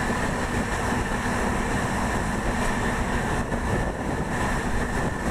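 The Mumbai–Chandigarh superfast express train runs on rails through Gujarat with a loud, continuous rumble and steady clatter, heard close from inside or beside the moving carriage.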